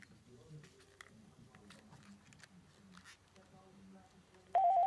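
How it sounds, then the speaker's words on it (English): A Panasonic NCP500 business phone system has a number dialed on it; a single sharp, loud keypad tone sounds near the end after a stretch of quiet background shuffling. "I will now dial the number."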